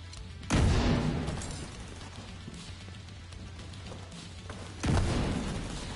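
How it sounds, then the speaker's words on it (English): Grenades explode in The Division 2 co-op gameplay, two muffled booms several seconds apart, each a sudden burst that rumbles and fades over a steady background. "Tossing nades, boys."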